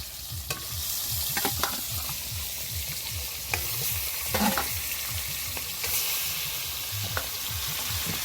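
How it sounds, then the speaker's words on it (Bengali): Tengra fish frying in hot oil at an outdoor picnic in the Sundarbans forest, giving a steady loud sizzle with rhythmic scraping and stirring strokes throughout and no talk. "মাছ ভাজা বসিয়ে দিয়েছে"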